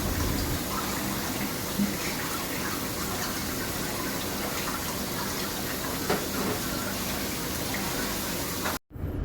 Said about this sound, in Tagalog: Ugasan din ng tubig para malinis bago ilagay sa ref.